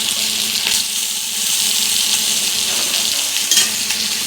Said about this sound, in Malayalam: വെള്ളം എടുത്ത് ഇതിലേക്ക് ഒഴിക്കുകയാണ്